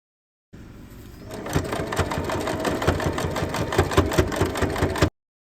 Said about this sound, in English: Pin it to the top center and sew them together.